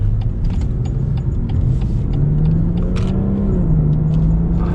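BMW M240i with an 8-speed ZF gearbox driving on the road: a steady, loud engine rumble with a rising tone, a shift partway through and faint rattles, no voices.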